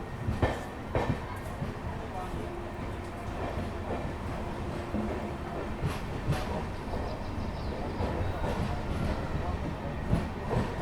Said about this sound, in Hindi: दौसा से 5 मिनट रुकने के बाद अपनी ट्रेन का डिपार्चर भी हो चुका है